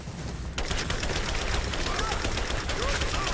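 Rapid gunfire bursts out in dense, continuous automatic volleys in a Lara Croft action game, loud and sustained throughout.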